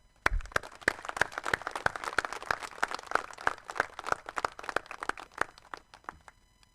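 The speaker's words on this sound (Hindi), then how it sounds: "आप उनका स्वागत करें और उनके लिए जोरदार ताली बजाएं" A crowd at an ex-servicemen rally applauds war widows with a steady run of distinct, fairly sparse handclaps falling into a rough rhythm, moderately close and without talk.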